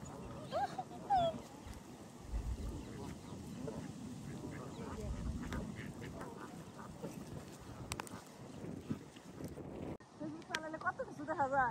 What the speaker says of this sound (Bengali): অনেক বড় বড় রাজহাঁস